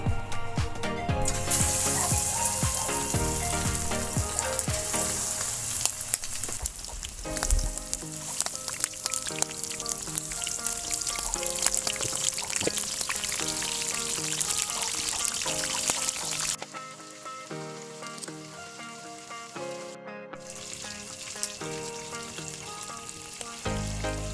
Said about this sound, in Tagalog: Bali, ipiprito na po natin yan.